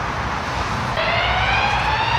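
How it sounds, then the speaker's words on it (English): A police car speeds past with its siren wailing on a street beside a homeless encampment under a tree; a rising siren tone cuts in halfway and holds steady and loud over constant road and traffic noise. "Police car's just gone racing by with the sirens on."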